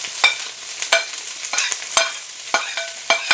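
Peppers, broccoli and onions stir-fried in a hot pan, with a crackling sizzle cut by sharp, repeated scrapes and tosses of a utensil at a fairly steady rhythm, close up and with no talking.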